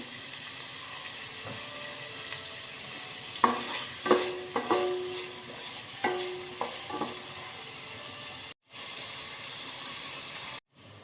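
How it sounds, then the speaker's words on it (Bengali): A steady sizzling hiss of carrots frying in a pan, with a few scraping stirs of a utensil partway through. "গাজরটা মোটামুটি ভাজা হয়ে গেছে"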